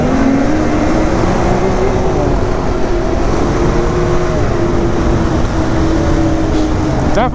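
A Ski-Doo 900 ACE Turbo snowmobile engine drones loud and close in a steady, smooth roar, its pitch climbing briefly near the end.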